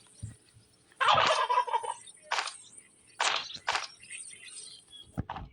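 Turkeys gobbling in the 99 Nights in the Forest video game: several loud, close gobble bursts in a row, with no talking.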